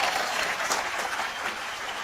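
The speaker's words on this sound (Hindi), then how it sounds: "मैं चाहूंगा कि इन सब लेजेंड्स के लिए एक बार जोरदार तालियां" Audience applause at a live comedy show: a dense, continuous burst of clapping from a large crowd, steady and fairly loud throughout.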